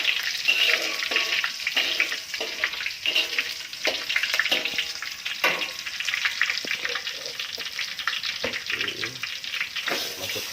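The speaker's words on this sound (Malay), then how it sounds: "pertama sekali kita akan menggoreng beras pulut" Glutinous rice fries in a pan with shallots and garlic, giving a continuous close sizzle broken by stirring scrapes and clicks, with faint voices in the background.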